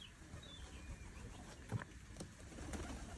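A pigeon coos in an outdoor setting. The soft, low calls come faintly, including a brief burst near the middle, over a rustly background with no talking.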